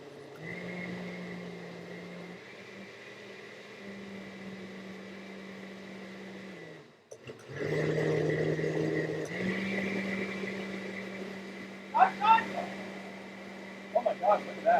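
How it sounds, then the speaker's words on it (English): A blender runs while homemade horchata is being made, giving a steady droning motor hum that cuts out briefly and restarts louder, with speech and a few clinks over it. "Ah, this is the angry blender."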